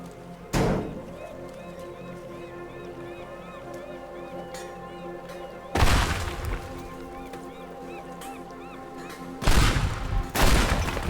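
Pipe bombs going off in the Teardown video game, three loud blasts spaced several seconds apart over steady in-game background sound, close and alone with no talking.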